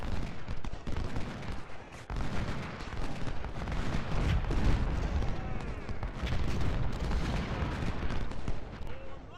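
Artillery booms and musket volleys in the Ultimate General: Civil War video game, a dense run of repeated gunfire cracks and deep thuds, steady and fairly distant, with some faint voices underneath.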